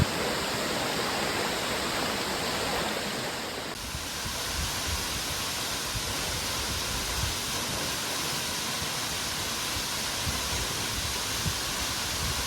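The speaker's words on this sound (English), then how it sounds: "With the water cascading down to this misty pool below, the sound of the falls are so soothing" Toccoa Falls in Georgia pours into a misty pool below, a loud, unbroken roar of rushing water filling the whole clip with steady broadband rush and no voices.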